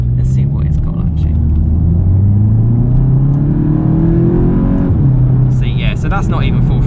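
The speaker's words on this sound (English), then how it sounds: "So that's not even full throttle, and it's fine." The petrol engine of a Volkswagen Golf Mk8 GTI accelerating, a deep, steady, loud rumble from inside the car, rising in pitch before a gear change and climbing again, while people talk over it.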